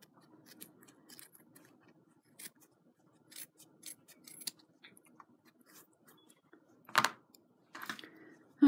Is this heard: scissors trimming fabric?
yes